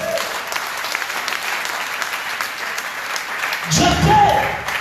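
A church congregation breaks into loud applause near the end, following a long stretch of a preacher speaking over background noise.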